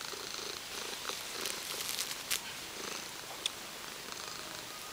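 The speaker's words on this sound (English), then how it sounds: "Cute cat." A long-haired cat purrs steadily and softly close by, a continuous rumbling with small rustles over it.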